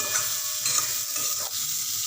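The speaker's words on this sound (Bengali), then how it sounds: "আমি কিন্তু কম তেলেই এটা ভাজা করব, তরকারিটা করব।" Drumstick flowers with potato and eggplant fry in a little oil, a steady close sizzle with soft stirring scrapes throughout.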